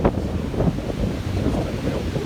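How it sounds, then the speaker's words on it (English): Strong outdoor wind buffets the microphone in a steady low roar near the water by a boat, continuous with no talk. "It's super windy right now, as you can tell."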